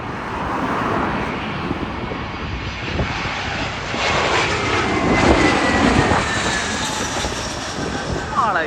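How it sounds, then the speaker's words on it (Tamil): An airplane flying in to land at Heathrow Airport, heard as a loud, continuous broadband engine roar that swells toward the middle and holds steady through the whole stretch, with a faint voice talking under the noise. "இதான் பாருங்கள் ஃப்ளைட் வருது"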